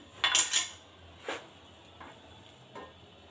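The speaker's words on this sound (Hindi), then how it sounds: "इस टाइम पर आकर हम इसको एक बर्तन में निकाल लेंगे।" Utensils scraping and clinking against a metal pan as golden-brown fried bitter gourd is lifted out into a dish, a sharp clatter at first, then a few lighter taps.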